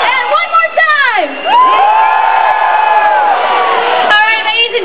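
Crowd at a Diablo 3 launch event lets out a long, loud scream and cheer, a dense roar of many voices that dips once and surges back up.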